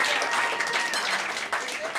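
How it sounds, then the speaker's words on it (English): Stand-up comedy crowd at the Laurie Beechman Theatre clapping in a dense, continuous burst, with a voice briefly audible over the applause. "Let's give them a round of applause."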